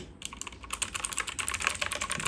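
Rapid typing on a Rapoo V500 Pro RGB computer keyboard, a dense run of close, crisp key clicks with no voices.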